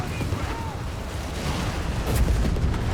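Gunfire and battle explosions in the strategy game Company of Heroes 3 as riflemen charge, a dense low rumble of shots and blasts building louder toward the end.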